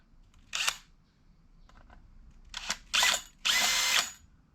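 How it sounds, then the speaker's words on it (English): Bursts of a power drill spinning a 1977 Honda GL1000 motorcycle tachometer: one short whir, a faint pause, then three louder, longer high-pitched whines in quick succession, close to the microphone. "let's stick a drill in it"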